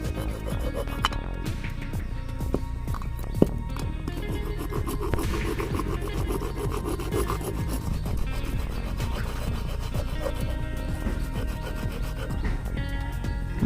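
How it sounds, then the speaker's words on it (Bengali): The damaged head of a motorcycle engine valve on a Discover 135 is rubbed down to level it, a continuous gritty scraping and rasping friction noise at close range. "তো এই ভালভের মাথাটা নষ্ট হয়ে গেছে, তো আমরা একটু ঘষে সমান করতে হবে"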